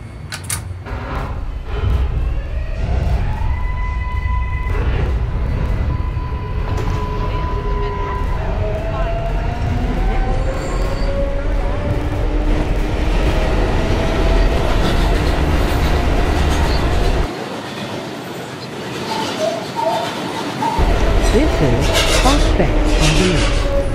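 A New York subway 4 train bound for Eastchester–Dyre Avenue pulls out of the station, its motors whining up in rising tones over loud rumbling and rattling wheels, with a brief quieter gap before the roar returns.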